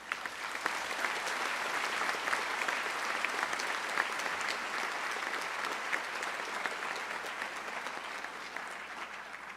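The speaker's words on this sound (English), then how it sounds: "Why don't we applaud them?" Convocation audience at a George Brown College graduation ceremony applauds steadily, a broad, even wash of many hands clapping from a distance throughout with no talk.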